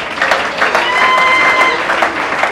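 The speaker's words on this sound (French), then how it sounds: "Applaudissez le Seigneur." Congregation clapping at a funeral service in church, a steady dense applause with some voices mixed in, fairly loud and close throughout.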